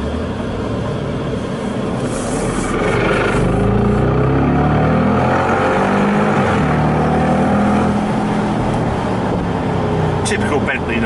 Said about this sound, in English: Typical Bentley noise. Bentleys have always been V8, apart from the W12.